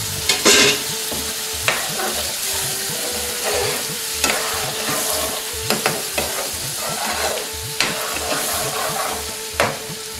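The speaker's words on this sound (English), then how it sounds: "I'm now going to add a ladle of my Madras base." Curry with a ladle of Madras base fries in a pan: a loud, constant sizzle broken by repeated scraping and clacking stirs about every second, close by.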